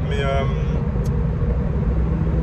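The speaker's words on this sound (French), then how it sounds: "on va entendre des voitures passer" Cars pass on a road near a rally of Porsches, a steady broad roar of traffic with a brief higher whine partway through.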